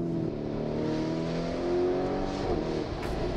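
A 2023 Lamborghini Urus Performante SUV accelerates hard on a raceway, its engine note steady and loud with rising harmonic tones and a brief surge toward the end, heard alone without talk.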